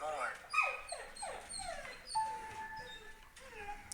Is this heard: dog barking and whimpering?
yes